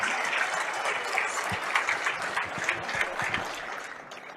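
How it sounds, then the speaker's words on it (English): A crowd applauds at a 10-ball pool semi-final at the 2022 APEX Wisconsin Open, steady mid-level clapping with individual claps standing out, tapering slightly at the end. "Have a nice round of applause for Mr. Lee Van CORTEZA."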